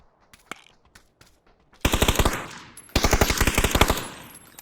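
Automatic weapon fire in the battle royale game PUBG: a few isolated distant shots, then two loud, rapid bursts of sustained gunfire close by, with no talk over them.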